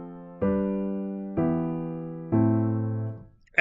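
Four sustained chords step through a 4-5-3-6 progression, each struck once and left to ring and fade, evenly spaced, close and soft, with a brief knock at the very end.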